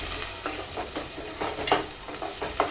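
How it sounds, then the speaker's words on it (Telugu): A spoon scraping and stirring chicken gravy curry in a pot, with repeated soft scrapes in an irregular rhythm over a faint background sizzle of hot oil, close and moderately quiet. "ఒకసారి అయితే కలుపుకుంటాం కదా"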